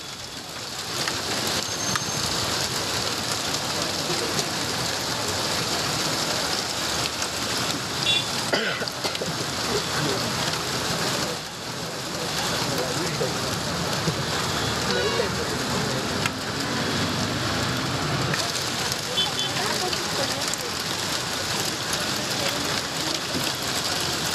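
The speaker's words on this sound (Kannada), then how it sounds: "ಬಾಗ್ಲೂರಲ್ಲೂ ಕೂಡ ಭರ್ಜರಿ ಆಲಿಕಲ್ಲು ಮಳೆಯಾಗಿದೆ" A heavy, relentless roar of hail and rain pounds down continuously at night in Bengaluru, with a voice faintly audible beneath the dense noise.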